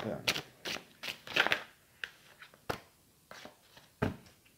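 Tarot cards shuffled by hand for a card reading, several quick riffling and slapping bursts close up, quiet, with gaps between them.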